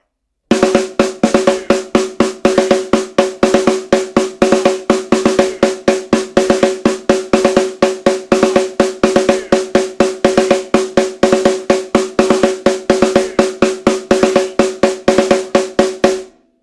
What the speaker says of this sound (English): the first phrase with just snare drum, counting out loud, and I'll also mark time with my hi-hat foot